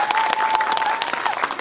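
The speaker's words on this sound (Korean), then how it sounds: "박수 한번 부탁드립니다" Audience applauding at a Korean film screening Q&A for the movie Pamyo in a cinema, a steady, dense clatter of many hands clapping throughout, with a faint steady tone running beneath.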